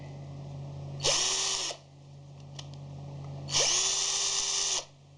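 NV-07 cordless screwdriver whirring in two short bursts, each about a second long, with a quiet pause between them and a close, clean motor whine.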